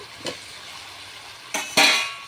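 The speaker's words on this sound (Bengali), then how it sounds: "দিয়ে দিব এই ভাজা আলুগুলো" Fried potatoes are dropped into a pan of spiced jackfruit curry, giving a couple of short clattering splashes and a brief sizzle, close and fairly loud.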